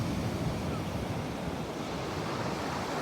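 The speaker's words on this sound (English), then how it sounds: "Beautiful day at the beach, St. Augustine, Florida." Ocean surf rolls in at a beach in St. Augustine, Florida, a dense continuous wash of waves with rumbling wind noise buffeting the microphone throughout.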